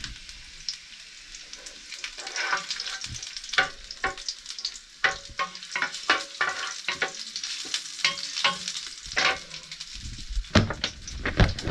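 Garlic frying in cooking oil in a pan, a crackling sizzle with frequent sharp pops and the scrape of stirring, close and continuous, without any talk.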